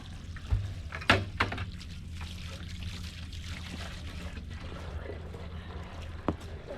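Water runs from a hose while caring for meat birds, a steady close pouring gush with a few knocks and bumps near the start, continuing unbroken.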